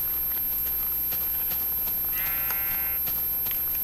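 A sheep in the video game Minecraft lets out one drawn-out bleat midway through, loud and close, over constant game background noise.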